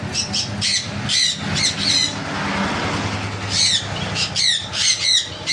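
Conure parrots, including sun, pineapple and blue conures, squawk loudly and close in repeated harsh bursts, with a brief lull in the middle before the calls resume.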